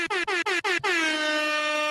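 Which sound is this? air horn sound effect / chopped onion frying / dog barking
air horn sound effect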